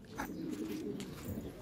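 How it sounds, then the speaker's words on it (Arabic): Soft cooing from a flock of about two hundred pigeons, faint and brief, with low murmuring and a few light bird calls. "فيهم 200 حمامة"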